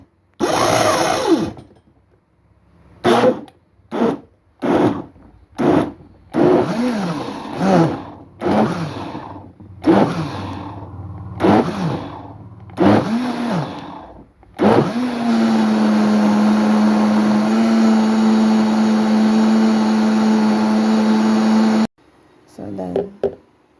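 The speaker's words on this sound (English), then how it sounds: "I don't have a juicer, so I'll use the blender first" A kitchen blender whirs loudly and steadily as it blends apple, celery, ginger and water into juice. Before it starts, a voice speaks over a string of short clinks and taps as the fruit is loaded.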